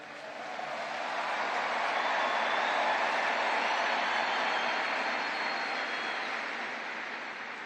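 A large crowd applauding at a memorial gathering for Charlie Kirk, a broad sustained wash of clapping and cheering that swells up, holds steady, then tapers slightly, heard from a distance across a big outdoor space.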